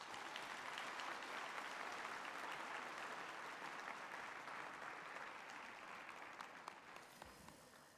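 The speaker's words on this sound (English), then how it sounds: "I think you can all give you another hand of applause." Sustained, steady applause from a large graduation ceremony audience at a university humanities faculty session, dense clapping filling the hall and tapering slightly toward the end.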